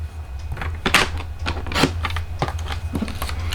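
A paper trimmer slices cardstock for a Christmas card, a series of soft scraping and clicking strokes over a low background hum, close and fairly quiet.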